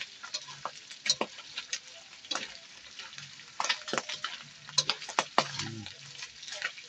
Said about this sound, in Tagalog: Medyo tumatalsik-talsik yung mantika niya.